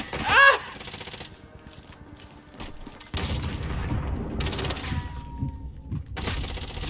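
Call of Duty Warzone firefight: a sharp explosion followed by bursts of rapid gunfire and booms, loud and close, in several separate volleys with brief gaps.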